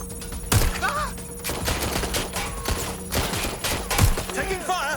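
Gunfire in the video game Watch Dogs Legion, with sharp shots and bursts cracking loudly and close through a tense firefight while a voice shouts over them.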